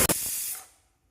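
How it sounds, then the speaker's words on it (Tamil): Pressure cooker venting steam while a mango pachadi cooks, a single loud hissing burst that fades away within about a second. "குக்கரில் 2 விசில் வைத்து எடுத்து விடலாம்"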